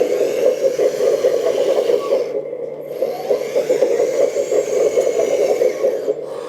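Drive motor of a K961 336GC RC hydraulic excavator running, a steady close electric whir and hum with slight speed changes and a brief dip midway, no talking.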